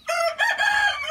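A rooster crows in a coop alongside chickens, a single short, loud, close call with a sharp rising start and a wavering held tail.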